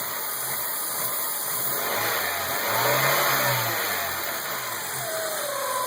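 A Honda H22A engine revving unevenly, bucking at low RPM and then surging upward, with a low engine drone rising and falling in pitch over a steady, loud hiss of background noise.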